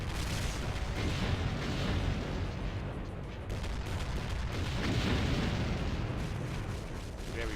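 Heavy gunfire and explosive blasts from a spider demon and an arachnotron infighting in Doom, a dense continuous barrage of booms and rapid shots that is loud and close throughout.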